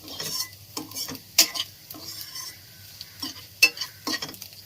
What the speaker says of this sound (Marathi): तर आता आपल्याला कांदा गोल्डन ब्राऊन होईपर्यंत भाजून घ्यायचा आहे